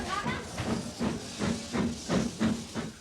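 Steam locomotive in India, a puffing billy working countryside and hill lines, chuffing in a steady rhythm of about seven close, loud exhaust beats with steam hiss and a sustained whistle-like tone running underneath.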